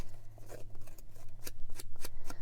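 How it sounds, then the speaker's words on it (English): Closed scissors rubbed along the edge of white and mocha cardstock to curl and distress it, making a run of quick scraping strokes close up over a low hum. "take my scissors, and I'm going to distress this white piece and the mocha, and I'm just going to rub along the side so it kind of curls up the edges"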